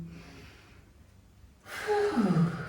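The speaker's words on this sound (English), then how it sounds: "just take a deep breath here" One slow, deep breath during an aerial yoga session: a soft exhale fades into a brief quiet, then a louder, rushing inhale comes up close and carries a slight voiced tone.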